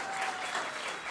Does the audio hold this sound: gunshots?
no